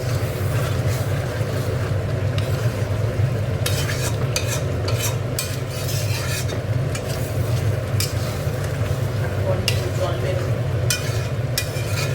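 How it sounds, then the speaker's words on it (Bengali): Ground spices for a chicken curry cook down with a little water in a pan, a constant sizzle under repeated scraping stirs and bursts of clattering. "জল দিয়ে দিচ্ছে, গুঁড়ো মশলা তো একটু জল দিয়ে কষতে হয়"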